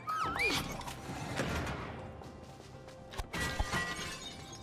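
Glass shatters in It Takes Two gameplay, with a sharp crash and tinkling breakage near the start and another burst of breaking around the middle, fairly quiet over game sounds.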